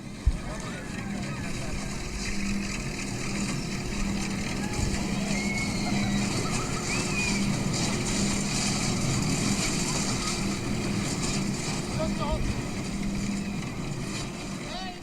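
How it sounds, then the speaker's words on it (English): Fairground ride machinery at the CNE hums continuously at moderate distance, with scattered clacks and rattles from ride cars over a busy crowd wash. "I'd hear the motors humming, the cars clacking,"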